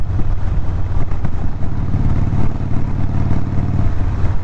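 A Hammer Performance 1250 conversion motorcycle engine being broken in, running loud and close with a steady, throbbing rumble and slight revving fluctuations throughout.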